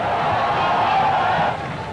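Stadium crowd roaring during a 1993 one-day cricket match between Sri Lanka and India at Moratuwa, a loud, sustained din of cheering voices that drops slightly toward the end, with a commentator's voice faintly present.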